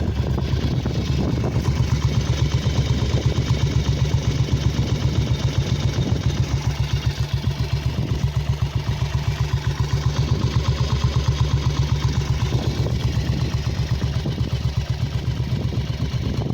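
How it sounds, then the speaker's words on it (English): A BSA C15 motorcycle engine idles steadily and fairly loudly, slightly fast, with a fast, even putter that holds through the whole stretch and never revs up. "It's idling away, maybe slightly on the fast side."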